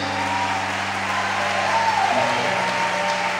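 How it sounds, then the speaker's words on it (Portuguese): Applause from a church congregation praising the Lord at a night service: a continuous, even patter of many hands under sustained keyboard tones with a sliding note, steady and fairly close. "Será que você pode aplaudir o Senhor?"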